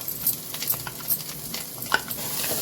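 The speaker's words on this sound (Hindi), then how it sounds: "तो चलिए मसाला को भी थोड़ी देर भून लेते हैं अच्छी तरीके से।" A masala paste fries in oil with browned onions for a bottle-gourd curry, as a light sizzle broken by scattered spatula scrapes and taps, close and fairly quiet.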